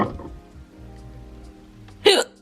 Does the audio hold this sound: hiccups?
yes